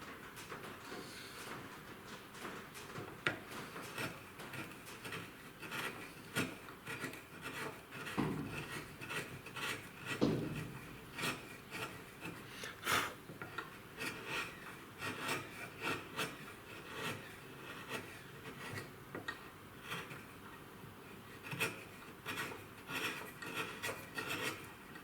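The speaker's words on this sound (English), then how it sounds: "all I'm doing is just guiding that front of the chisel, slowly taking it back till I hit this point here." A hand chisel paring wood, drawn back slowly along the cut, making a faint, continuous dry scraping and rasping with small irregular pulses that carries on steadily for a long stretch.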